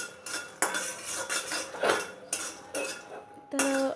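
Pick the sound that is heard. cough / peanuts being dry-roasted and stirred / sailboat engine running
peanuts being dry-roasted and stirred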